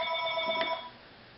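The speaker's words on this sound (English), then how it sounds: "my phone is ringing in the background" A telephone rings in the background during a Qui-Gon Ultimate FX sound card install, giving a short, faint electronic trill that stops after under a second, leaving quiet room tone.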